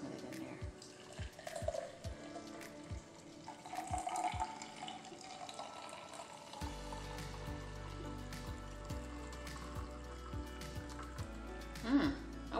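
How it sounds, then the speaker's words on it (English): Cucumber juice from a Breville Juice Fountain poured into a glass, a soft trickling, splashing stream that follows some light clinks and taps, quiet and close with no talk. "Let's pour some of it in"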